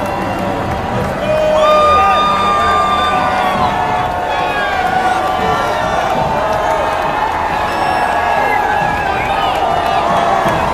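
A crowd cheers and shouts at the Seattle Sounders MLS Cup championship parade and rally, with whoops and a swelling roar near the start. Whistles or horns sound over it and people talk nearby.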